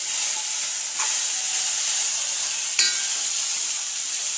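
Snake gourd thoran fries in a pan, a steady bright sizzle and hiss with a couple of soft stirring scrapes, close and continuous with no talking.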